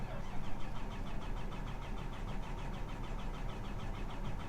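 A combine harvester engine cranks and turns over, a steady mechanical churning with rapid repetitive ticking, close and fairly loud throughout, with no talk.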